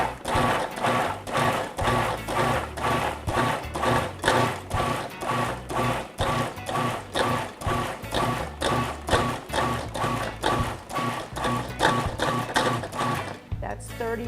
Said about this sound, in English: I'm going to pulse all of my vegetables to really, really finely mince them,